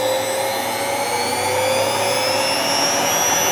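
Washing machine drum motor running flat out at about 500 watts on a test unit, giving a loud, steady whine with sustained tonal harmonics that drift slowly upward in pitch.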